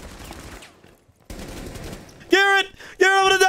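Gunfire in Rainbow Six Siege comes as two loud, close bursts of rapid automatic shots near the end, following a stretch of quieter game noise and a brief pause.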